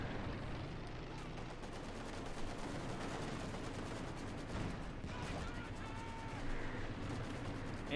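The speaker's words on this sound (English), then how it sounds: "Airstrike again." An airstrike in the video game Company of Heroes 2 rumbles and crackles as dense continuous bursts of gunfire and explosions, with a commentator talking over it.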